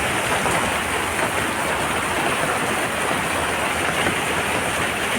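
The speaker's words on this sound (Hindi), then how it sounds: "बारिश देखिए कितनी हो रही है" Heavy rain pours steadily at night, a dense unbroken hiss and patter close by on surfaces, loud and even throughout with no voices.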